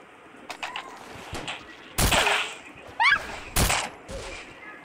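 Gunfire in Roblox, with a few short, sharp bursts of shots spaced over several seconds and a brief chirping effect between them. No one talks during them.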